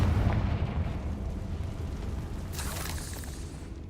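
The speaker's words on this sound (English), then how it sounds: "Well, I'm using explosions anyway." Confringo explosion spell cast in the Hogwarts Legacy video game: a loud, deep booming blast with rumbling low end that stays heavy for the whole stretch, with a brighter crackling burst near the end.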